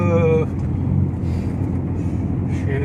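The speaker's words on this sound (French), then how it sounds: "Le bruit de cette voiture, très sympa" A Toyota Supra Turbo's engine hums and rumbles low and steady from inside the car while driving, with wind noise and a voice talking over it.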